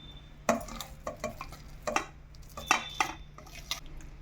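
Ground banana flower batter being scraped and dropped into a vessel, a series of soft wet thuds and scraping clatters of a spoon against the container, irregular and close, no talking.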